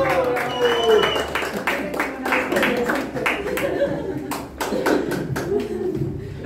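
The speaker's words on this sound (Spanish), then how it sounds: "Y el aplauso bien bonito para el mariachi que se escuche." An audience applauds a mariachi band at a birthday celebration: scattered, steady clapping with some chuckles and crowd murmur, while voices talk over it throughout.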